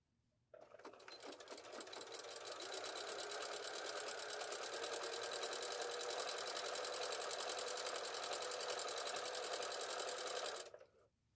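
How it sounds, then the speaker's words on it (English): Sewing machine stitching a fabric tutu skirt, a continuous rapid mechanical whirring hum that starts abruptly, runs steadily for about ten seconds close up, then stops. "we're going to go to the machine and sew a half inch in all the way around"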